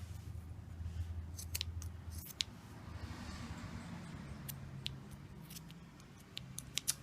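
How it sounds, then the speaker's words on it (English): Scissors snip through fabric while making a homemade dog toy, cutting up to a seam, giving several crisp, close cuts scattered over a low background hum. "we're going to take our scissors and we are going to, from here, cut all the way up to the seam"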